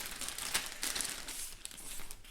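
Paper leaflets and inserts from an Epiphone LP Special guitar box crinkle and rustle up close in a few quick bursts of handling, with no voice.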